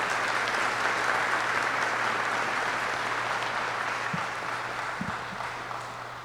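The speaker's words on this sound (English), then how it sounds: "Please join me in a round of applause for this outstanding team." Applause from the audience at a military Warrant Officer Candidate School graduation ceremony, a broad continuous wash of clapping heard over a steady hum, slowly fading toward the end.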